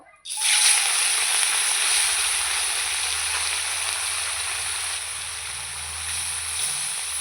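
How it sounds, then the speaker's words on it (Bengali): Amudi fish and prawns drop into hot oil and set off a sudden loud hissing sizzle that stays strong and steady, slowly easing a little over several seconds. "তেল গরম হয়ে গেছে আমদি মাছগুলো দিয়ে দেবো আমদি আর চিংড়ি মাছ একসাথে ভেজে নেব"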